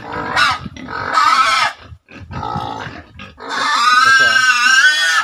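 Pet pigs in a pen squeal and grunt loudly and close, several bursts of shrill squealing separated by short pauses, ending in a long high-pitched squeal.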